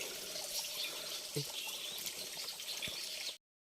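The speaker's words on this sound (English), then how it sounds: "This water comes from above and goes down through here." A small mountain waterfall trickles steadily, a faint, continuous hiss of running water with little else around it, cutting off abruptly at the end.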